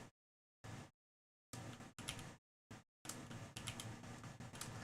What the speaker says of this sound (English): Keys are louder than the beginning of the stream.